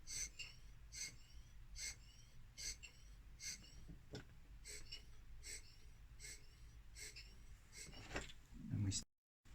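Steady mouth breathing inside a respirator during a fit test, a regular series of soft rhythmic breaths, close and fairly quiet, with a brief rustle near the end before the sound cuts out.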